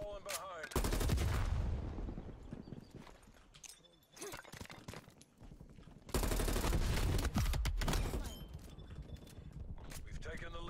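Video game team deathmatch gunfire comes in dense, rapid bursts of shots, in two loud clusters separated by quieter stretches of scattered fire.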